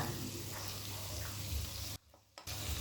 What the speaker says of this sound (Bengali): আদা রসুন বাটা দেওয়ার পর এক মিনিট ভেজে নিয়েছি এবার দু টেবিল চামচ ধনে জিরে বাটা দিয়ে দেব